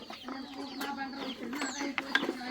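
A hen sits on its nest of straw holding two eggs and gives soft, low clucks and murmuring calls that rise briefly, close but quiet.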